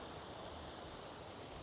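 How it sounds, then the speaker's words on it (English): A small waterfall heard from a wooded spot behind branches, giving a steady, even rush of falling water with no breaks, fairly distant and soft. "There's the falls. You can at least hear it."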